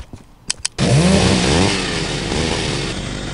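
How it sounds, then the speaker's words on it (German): A chainsaw in the game Postal 2 gives a couple of sharp pull clicks, then roars to life loudly, its engine revving high before settling to a steady buzzing idle. "Jetzt echt eine Kettensäge."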